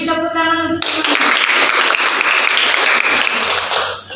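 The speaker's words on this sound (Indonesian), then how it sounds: "Beri tepuk tangan untuk semuanya." Dense, steady applause from a seated class at a nursing academy lecture on health promotion media, breaking in suddenly after a brief tonal sound and continuing loud and close to the end.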